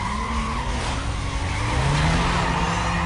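A race car launching in Need for Speed Most Wanted (2005), with tires squealing and skidding over a loud revving engine whose pitch climbs steadily, close and continuous.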